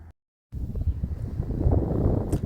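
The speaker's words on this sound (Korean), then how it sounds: "바람 소리가 꽤 많이 들리죠 이제." Low, blustery wind rumbling against the microphone on Hallasan mountain, after a brief silence, steady and fairly loud with no voices.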